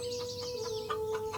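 Hens cluck in a short, steady run, an audiobook sound effect for a pair of chickens brought from a Santal village; the calls are close and clear over a faint background with no talking.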